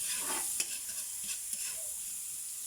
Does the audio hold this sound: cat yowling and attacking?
no